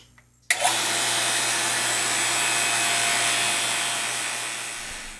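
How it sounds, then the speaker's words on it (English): A vacuum pump used on pen blanks kicks on suddenly after a brief quiet moment, then runs with a loud, continuous hiss and whine that slowly eases. "try and watch the air come out of those little blanks as soon as I turn the vacuum pump on"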